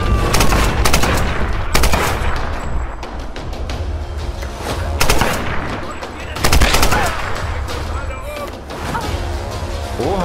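Gunfire in the video game Tomb Raider Definitive Edition during headshot kills, with dense rapid bursts of shots and thuds that stay loud and continuous, while someone talks over the action.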